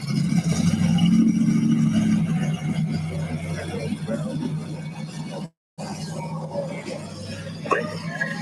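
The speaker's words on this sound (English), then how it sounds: "There's an old Camaro making all kinds of noise" An old Camaro running on ethanol rumbles at a Ford Mustang night car show, its engine a steady low drone with clattery noise while people talk nearby.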